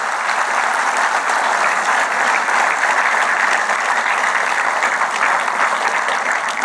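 Steady, dense applause from an audience at a National Voters Day awards ceremony in Chennai, honoring a third-place winner; loud and continuous throughout with no voices over it.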